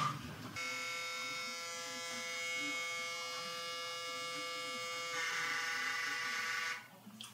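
An electric clipper buzzes steadily and close up while shaving off a heavily matted, felted beard, a loud continuous drone that shifts slightly in pitch as it works through the hair, then stops abruptly.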